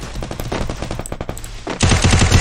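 Video game gunfire from a 4v4 shooter match: rapid automatic bursts crackle at close range, turning into a denser, louder volley toward the end, with no talk over it.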